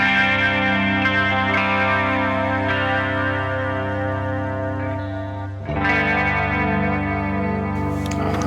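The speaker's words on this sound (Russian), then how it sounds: "Здесь есть такой уже встроенный легкий шиммер. Его слышно немножко." An electric guitar runs through a Neural DSP Archetype John Petrucci plugin preset with a light built-in shimmer. A sustained, effect-washed chord rings out, and a fresh strum near the end brings back a bright, chorused sparkle.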